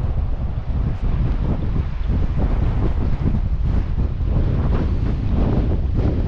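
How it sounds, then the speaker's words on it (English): Strong wind blowing over a mountain river's rapids, a dense continuous roar mixing gusty air with rushing water, loud and steady throughout without voices. "Wind's starting to blow the tops of the rapids."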